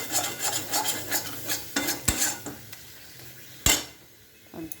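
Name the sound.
sautéing spice masala with coriander powder in a pan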